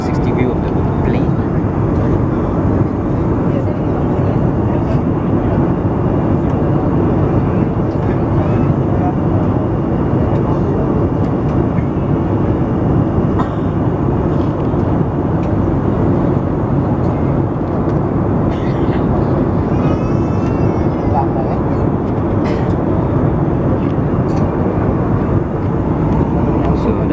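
A small Air Asia airplane heard from outside in Kuching gives a steady, loud, broadband engine roar that continues unbroken throughout. Voices can be heard faintly beneath it.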